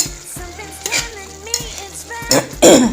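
Minced pork stir-fries in a pan with a steady sizzle, a spatula scraping and clattering against the metal, while someone talks over the cooking.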